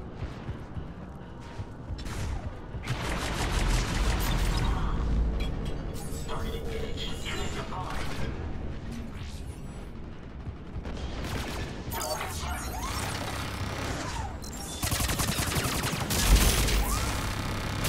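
Video game firefight with a steady, dense barrage of gunfire, including bursts that resemble machine-gun fire and occasional heavier booms, as a squad moves through an area being evacuated; game speech plays over the shooting throughout.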